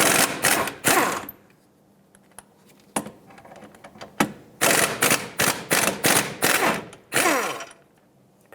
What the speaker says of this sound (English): 17mm socket, let's remove the ball joint fasteners here